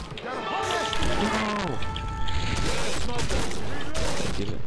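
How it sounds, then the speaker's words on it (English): Firecrackers crackle in bursts during a Left 4 Dead 2 match, sharp pops scattered over game effects and someone talking, with gunfire mixed in. "Firecrackers."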